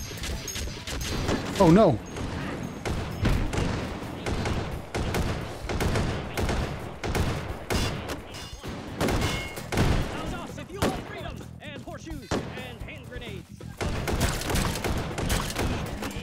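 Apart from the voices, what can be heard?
gunfire in VR video game Hot Dogs, Horseshoes & Hand Grenades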